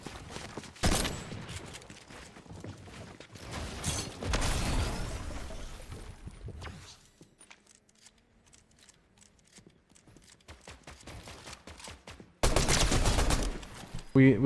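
Pump shotgun in Fortnite, with several loud, close blasts spread across the stretch amid quieter game sounds and a lull in the middle, then a heavy burst of fire at the end.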